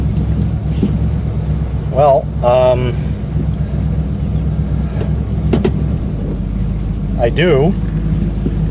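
A Buick car engine running steadily as a low, constant rumble inside the cabin, with brief voices and a few clicks and rattles over it.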